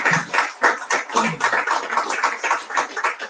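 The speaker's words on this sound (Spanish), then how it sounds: "Y pido un fuerte aplauso para" Audience applause at a book presentation of a poetry collection, a steady burst of many hands clapping close by for the whole stretch, dense and even with no voices over it.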